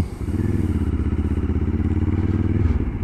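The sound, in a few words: adventure motorcycle engine revving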